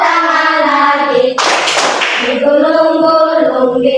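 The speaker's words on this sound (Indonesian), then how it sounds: "tutup, tepuk tangan lagi." A room of schoolchildren break off their singing for a quick, loud round of hand clapping lasting about a second before the song resumes.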